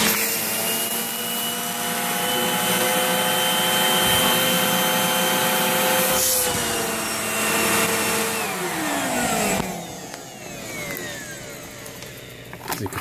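A loud, steady vacuum motor drones with a whining harmonic tone that shifts pitch midway, then changes character as the suction strains near the end while drawing air from a space-saving storage bag.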